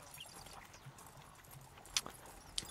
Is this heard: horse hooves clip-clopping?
yes